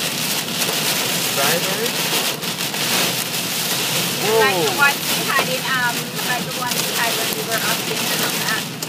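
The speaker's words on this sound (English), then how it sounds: "I think we got pea-sized hail." Pea-sized hail pelts down during a storm in Oro Medonte, a dense, steady patter filling the whole stretch while people talk over it.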